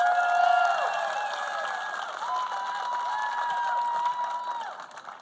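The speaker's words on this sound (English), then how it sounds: "Give him a round of applause." Rally crowd cheering and applauding for a sheriff at a political rally in Georgia, sustained and loud with whoops and shouting voices layered over the clapping, easing slightly toward the end.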